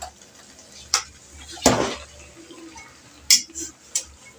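A spoon clinks against a pot while hot rice is scooped onto chicken Sindhi biryani, giving a few sharp metallic taps and one longer scraping scoop, close and moderately loud, with a faint background hum.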